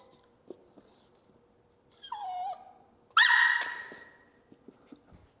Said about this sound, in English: We'll give it so we get 2 more barks.